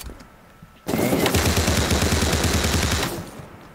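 A single sustained burst of rapid SMG fire in the browser shooter Krunker.io, loud and close, beginning abruptly after near silence and lasting a couple of seconds before cutting off.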